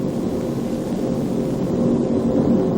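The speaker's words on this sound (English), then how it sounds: "The rescue plane, a specially equipped caribou with a V-shaped fork on the nose, drops down to 450 feet" A Caribou rescue plane with a V-shaped fork on its nose flying low at about 450 feet and 150 miles per hour: a loud, steady droning engine roar that holds even and continuous, with no voices.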